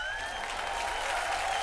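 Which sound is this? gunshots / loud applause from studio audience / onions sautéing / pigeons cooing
loud applause from studio audience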